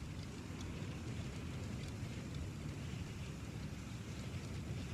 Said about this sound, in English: No, it's just the wind on the planets